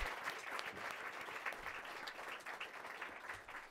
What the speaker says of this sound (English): Let us all appreciate ourselves with another round of applause.